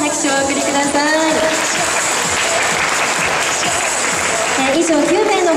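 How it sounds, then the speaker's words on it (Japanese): Loud, steady applause from a fashion show audience in Nagoya fills the whole stretch, dense and continuous with a slight swell near the end, and voices murmuring underneath. "皆様大きな拍手をお送りください。"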